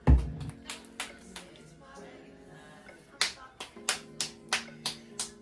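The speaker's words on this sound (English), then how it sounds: "Thank you for clapping." A small child claps hands at home, sharp separate claps, a few early then a quicker run of about seven near the end, close by, with an adult talking softly in between.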